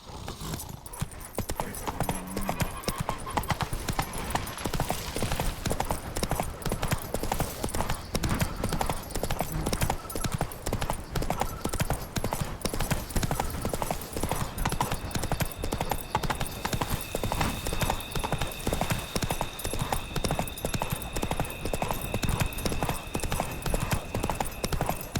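Roach, the horse in The Witcher 3, gallops with rapid, steady hoofbeats that carry on loud through the whole stretch.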